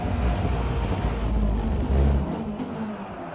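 Race car engine in a console sim racing game, a steady low roar with a brief surge of revving, continuous and moderately loud with no talk over it.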